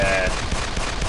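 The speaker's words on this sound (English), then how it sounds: "I could decimate everything with this one cannon" Cannon fire in the PS4 game Assault Gunner, a dense, loud barrage of blasts packed close together across a second, with no talk over it.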